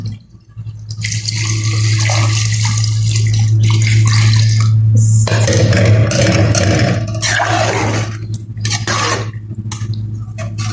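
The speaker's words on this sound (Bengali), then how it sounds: "এখানে আমি অ্যাড করবো সামান্য পরিমাণ পানি" Water pours into a simmering fish and eggplant curry, a loud continuous gushing splash that runs for most of the stretch, then trickles and drips near the end.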